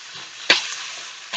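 Beef browning in a hot pan, a steady close sizzle with a couple of sharp clinks or scrapes from stirring.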